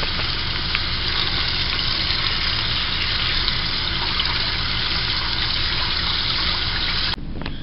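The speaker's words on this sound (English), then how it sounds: "you just want to let some water run through them" Tap water runs steadily over grapes being rinsed in a kitchen sink, a continuous close hiss and splash that cuts off abruptly near the end.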